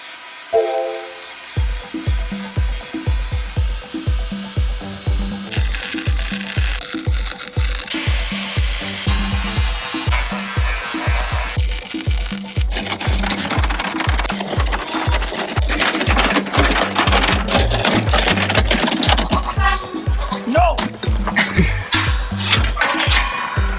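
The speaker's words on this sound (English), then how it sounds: "we're gonna try welding and grinding at the same time" Welding and grinding running together off a Jackery Solar Generator 5000 Plus, giving a steady, loud rhythmic pulsing with harsh crackling and hiss that builds through the second half, with no talk.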